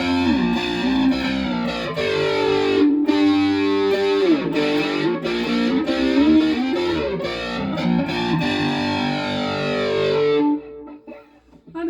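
A heavily distorted electric guitar plays sustained, fuzzy chords and bends continuously, loud and thick, before cutting off near the end.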